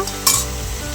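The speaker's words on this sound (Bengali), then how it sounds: "পেঁয়াজ রসুন একটু ভেজে নিলাম পাঁচফোড়ন লঙ্কা দিয়ে তারপরে সব সবজিগুলো কেটেছিলাম সেগুলো দিয়ে দিয়েছি" Onion, garlic, panch phoron, chili and chopped vegetables sizzle in a hot pan, with a loud stirring scrape early on over a steady close frying hiss.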